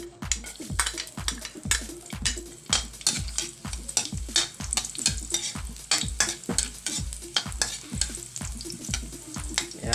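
Garlic frying in hot oil for a Filipino pork soup, with a steady sizzle under a regular run of close, sharp utensil knocks against the pan, about two per second.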